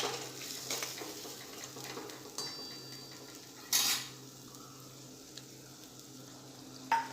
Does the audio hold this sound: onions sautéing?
yes